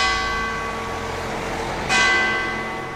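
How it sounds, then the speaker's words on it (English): Church bells ring out across a street in Bratislava, a loud, sustained, shimmering peal with layered overtones and a fresh strike near the end, heard nearby in the open air. "Church bells again!"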